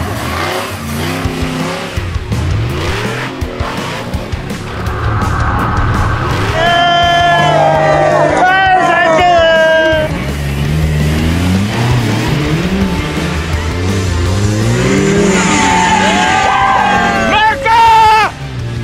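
A 4x4 rock crawler at a Japanese off-road competition revs hard at full throttle, the engine surging and whining up and down in repeated bursts, loud and close, with a crowd and commentary audible around it.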